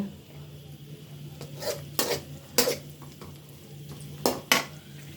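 Onion, egg and green chili fry for noodles as a spatula clanks and scrapes against the pan in several loud, irregular strikes over a faint background sizzle.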